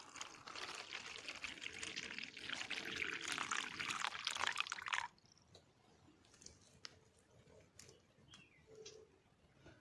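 Water pours steadily for about five seconds as it is set out in trees for birds in a forest, then stops, leaving quiet outdoor ambience with a few faint bird calls and small clicks.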